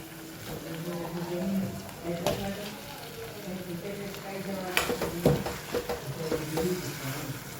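Potatoes, coriander and lemon stirred in a hot frying pan, a steady close sizzle with scraping spoon strokes and clinks, while a voice talks over it.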